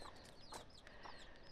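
A hen clucks softly beside her three young chicks, which peep in high, thin chirps over a faint background hiss, all heard from close by.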